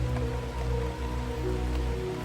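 Steady, close rain drumming on a sloping roof above a small bedroom, a dense continuous patter with no break and no voices.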